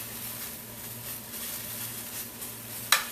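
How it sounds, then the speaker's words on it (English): Eggplant and onion sizzle softly in a pan, a low steady frying hiss with a quick utensil clink near the end. "I see that the eggplant starts cooking a little bit"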